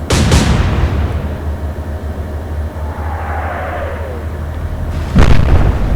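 Naval gun salvo in the Atlantic Fleet video game, heavy booming shots at the start and again near the end, with a low rumbling battle ambience between them.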